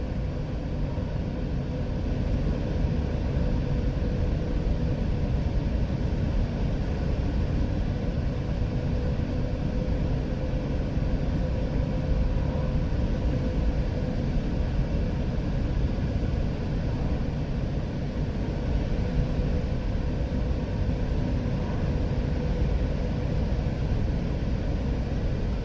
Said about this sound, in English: I'll just be quiet for 30 seconds here now so you can just enjoy the quiet drive through the country.